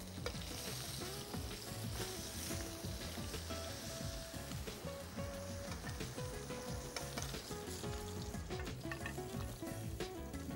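Prawns sizzle and crackle steadily in a hot frying pan, a dense, continuous spitting hiss with occasional scraping as they are pressed and stirred, close and uninterrupted.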